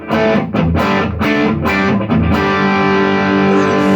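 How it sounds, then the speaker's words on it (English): A loud, distorted electric guitar through a Blackstar HT5 tube mini stack amp plays a few choppy chords, then lets a final chord ring out and sustain with a lingering reverb wash. "that was the reverb I just hit there"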